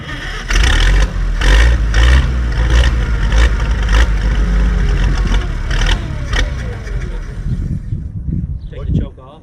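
The engine of a Trojan 134 loader cranks and runs with a rough, loud rumble and rhythmic chugging throughout, while people talk over it nearby.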